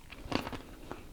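One close crunchy bite into a salted almond followed by a few softer chewing crunches, faint and alone without talk.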